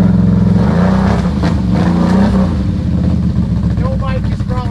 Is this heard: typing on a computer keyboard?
no